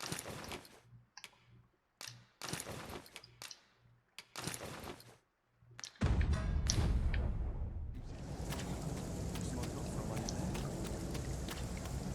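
Rain in the video game Dragon's Dogma 2, first scattered clicking and ticking, then a steady hiss of rainfall that sets in and fills the rest.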